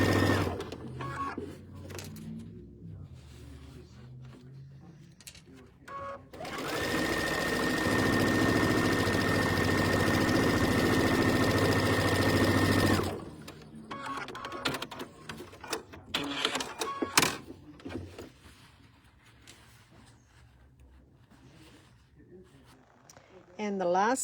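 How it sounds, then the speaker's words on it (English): Sewing machine stitching quilt seams, running steadily for about six seconds as a loud continuous whir, with quieter handling noises before and after. "I'm going to go ahead and stitch these 3 seams together"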